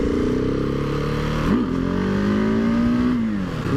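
Husqvarna 701 Supermoto single-cylinder motorcycle riding in second gear, a loud steady engine drone with a brief rev dip and a slowly rising pitch, heard up close with constant wind rush.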